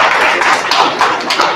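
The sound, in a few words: audience applause at mosque gathering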